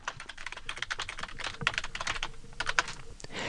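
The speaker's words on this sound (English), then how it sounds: "And now you're ready to start typing." Rapid, irregular clicking of keys on a computer keyboard, close and steady, with brief pauses between bursts of typing.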